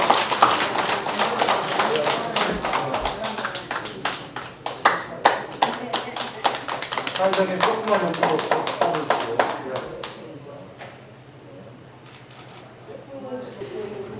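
Dense applause from a crowd at the opening ceremony of a free meal center in Daejeon, a steady patter of many hands clapping that tapers off toward the end, with a voice speaking through it.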